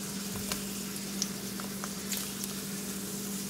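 Carolina Reaper bacon frying in a pan gives a soft, steady sizzle beneath a low hum, dotted with a few faint pops and spits, close by and with no voices.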